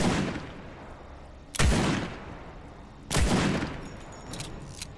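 Two heavy, booming shots from a new scoped rifle in Fortnite, each a sharp loud blast with a rumbling decay, fired a couple of seconds apart, with faint chiming game sounds after.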